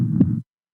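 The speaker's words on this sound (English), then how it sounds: "heartbeat, very kind of" A heartbeat sound effect triggered from a pad on a TASCAM Mixcast 4 podcast mixer: a single short, deep, muffled thump, loud and close, ending abruptly.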